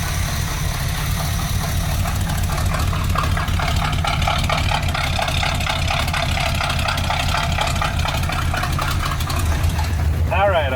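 An abandoned 1972 Corvette with a carburetor in need of a rebuild runs steadily just after firing up, a close, continuous idle with some knocking, while people talk over it.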